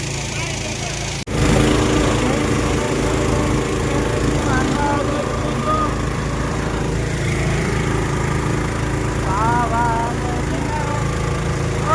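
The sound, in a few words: motorboat engine running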